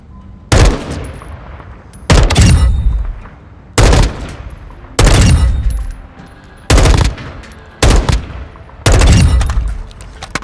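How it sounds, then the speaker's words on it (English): Assault rifle firing three-round bursts in Call of Duty Modern Warfare 2, seven loud close bursts spaced about a second or two apart, each a rapid crack with a booming tail. "I'm going to try my best to 3-round burst these targets."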